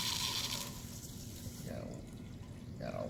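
Cold water runs steadily from a lab tap, a soft continuous hiss with faint clatter underneath, a voice briefly audible in the background.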